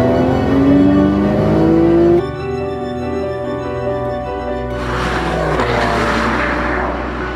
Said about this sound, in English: That car is the 2012 Porsche 911.